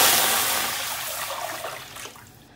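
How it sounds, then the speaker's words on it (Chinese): Water from a tap pours steadily into a cooking pot, strongest at first and then thinning to a quieter splashing trickle before it stops. "锅里加水"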